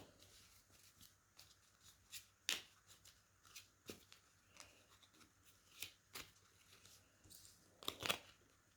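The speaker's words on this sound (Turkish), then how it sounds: "Bir de olası gelecek için şu destemizden 3 kart seçelim ve bakalım." A deck of tarot cards is shuffled and cards are drawn, producing repeated soft riffling and flicking sounds with several sharper snaps, close and quiet, with no talking.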